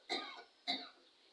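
Two short, sharp coughs from one person, close and clear, about half a second apart, followed by quiet.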